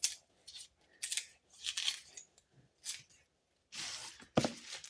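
Scissors snipping through kale leaves in a home kitchen, a series of short crisp cuts in irregular bursts, close and fairly quiet, with no talking.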